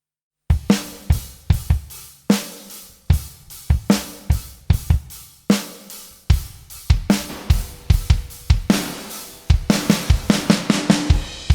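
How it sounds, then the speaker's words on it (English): A stripped-back music mix with the snare and kick samples removed plays alone, a steady rhythmic pattern of percussive hits and sustained tones pulsing evenly throughout. "without the snare sample and the kick sample, it sounds like this"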